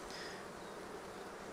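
Bees swarming at a hive kept at an office make a dense, continuous buzzing drone, close and steady, with no voices.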